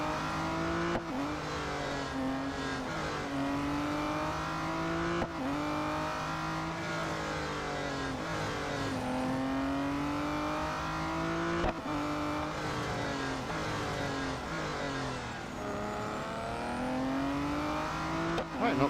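Race car engines and tires in the Real Racing 3 video game, a continuous high engine drone with repeated rising and falling revs through gear changes, sustained and loud throughout.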